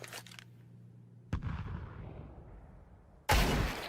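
Gunshots in a Counter-Strike match on Mirage: two sharp, loud reports about two seconds apart, each followed by a decaying rumble, with a faint earlier burst.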